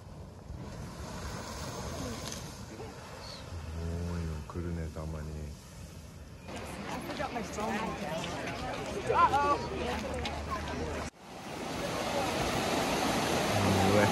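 Powerful rush of water pouring from above into a river at Yellowstone, a loud continuous roar with gusts of wind buffeting the microphone while people talk excitedly over it.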